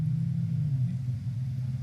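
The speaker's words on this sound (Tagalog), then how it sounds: "Kulog, no?" Thunder rumbles low and steady in the distance, a continuous deep roll that neither rises nor breaks for the whole stretch.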